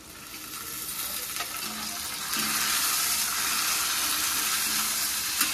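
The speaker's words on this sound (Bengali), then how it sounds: "টমেটোটাকেও একটু হালকা করে ভেজে নেব" Sliced tomato hits a pan of fried onions and frying sizzle rises loudly, a dense steady hiss that grows stronger midway, with faint stirring scrapes and no voices.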